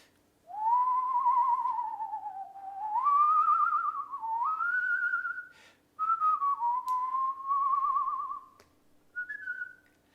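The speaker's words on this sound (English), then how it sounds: "I'm a pretty good whistler." A person whistles a long melodic tune, sustained and wavering with vibrato, in several unbroken phrases with brief pauses, close and fairly clear with no talking.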